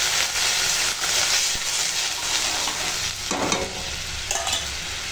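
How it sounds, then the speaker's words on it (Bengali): Pumpkin, potato and chickpea curry cooks in a pan with a steady hiss and bubbling sizzle, with a few scraping stirs heard close and no voices. "আর দেখো কুমড়ো ছোলা এখন রান্না হচ্ছে"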